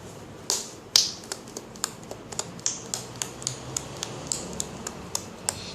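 Soft slime poked and pressed by fingers, a run of crisp little clicks and pops at a steady, close rhythm over quiet background.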